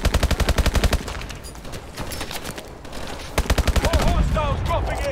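Gunfire and a grenade in Call of Duty Advanced Warfare: rapid, loud bursts of automatic gunfire open, then a lull of mixed battle noise, followed by another string of sharp shots and a thudding blast, with a voice briefly heard.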